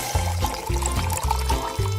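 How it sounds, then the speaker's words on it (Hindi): Water poured into a cup of coffee, a gurgling, trickling pour heard in short bursts with a few brief pauses, fairly close and alone with no talk. "और अब इसमें थोड़ा पानी मिलाया।"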